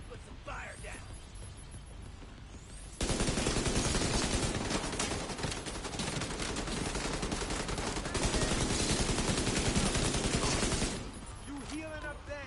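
Sustained automatic gunfire in the shooter The Division 2, a loud, dense, continuous rattle lasting several seconds that starts abruptly and then breaks off, with quieter game ambience before and after.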